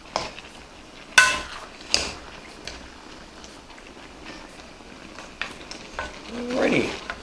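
Chicken stir-fry is stirred in a bowl, giving soft scraping and sizzling with a few sharp utensil knocks against the bowl, fairly quiet overall.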